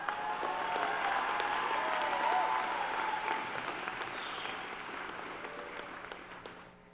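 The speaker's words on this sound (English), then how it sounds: "If you guys could please give another round of applause, but this time a little louder" A graduation audience applauds in a thick, continuous wash of clapping with a few cheers, strong at first and gradually tapering off toward the end.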